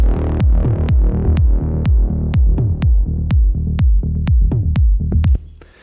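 A steady, loud techno loop: punchy kick drums thump on every beat with a deep bass pulse between them, then the loop cuts off near the end.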